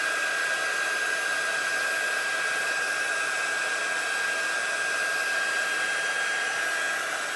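Heat gun blowing steadily to melt clear embossing powder, a close, continuous airy whir that holds an even level throughout.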